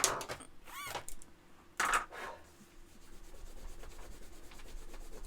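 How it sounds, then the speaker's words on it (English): An eraser rubbed back and forth over gel pen ink on paper, giving a few close, brisk scrubbing strokes in short bursts, followed by quieter room noise. "when you rub it out, I've smudged mine a little bit."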